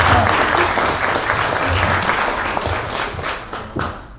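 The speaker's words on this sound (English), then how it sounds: "let's give a round of applause" A crowd's applause, dense and steady clapping that gradually thins out and fades toward the end.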